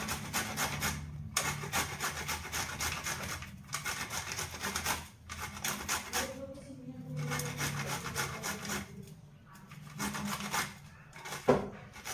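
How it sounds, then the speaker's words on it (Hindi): Vegetables are grated by hand as rabbit feed, giving repeated rasping rubs in steady strokes with short pauses between bursts, close and moderately quiet with no talk. "तो अब मैं इसे अच्छे से घिस लूँगी करते हैं।"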